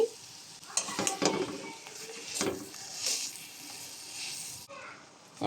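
Wood apple pulp being stirred into hot oil with boiled olives for a pickle, a frying sizzle under repeated scraping and clattering strokes of a spoon against the pan.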